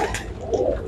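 Pigeons in a loft give soft, throaty coos close by, several overlapping rolling calls in quick succession with no talking over them.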